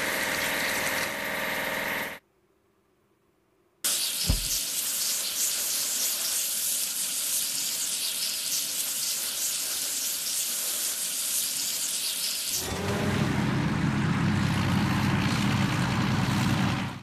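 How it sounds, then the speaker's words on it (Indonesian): In a construction video game, a pile driver machine is hosed down with water, giving a steady loud rushing spray that runs on for many seconds, broken by one short silent gap and a harsher tone near the end. "Ayo cuci mesin lantak."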